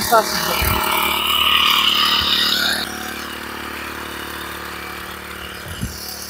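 Engine-powered sprayer running steadily at moderate throttle while spraying a short pigeon pea crop in a field, a continuous mid-pitched motor drone with a hissing spray, louder for the first few seconds and then lower, with a couple of faint knocks.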